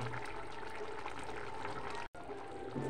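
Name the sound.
fish curry broth boiling in pot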